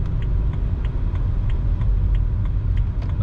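A used project car driving slowly through light traffic under a convention center, its engine a steady low rumble with faint periodic ticking, continuous and close throughout.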